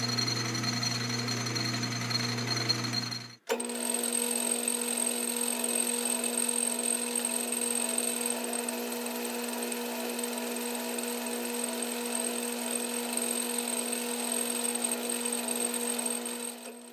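A lathe faces off a scrap steel washer with a steady whining hum and continuous cutting noise, loud and close, briefly interrupted partway through before the motor resumes at a slightly different pitch.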